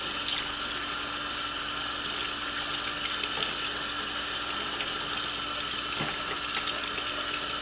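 Water runs steadily to rinse small parts removed from a Singer 337 sewing machine during restoration, a continuous close hiss of flowing spray with no pauses and no voices.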